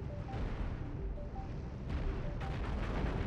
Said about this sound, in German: Die Railgun explodiert einfach komplett bis hinten.